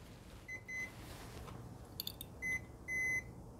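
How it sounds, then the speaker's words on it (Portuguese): A multimeter in continuity mode beeps in short, high, steady tones while probing a Moto G7 phone board with a no-sound fault: two brief beeps, then two longer ones, over faint background hiss. "Desse lado bipa, do outro não."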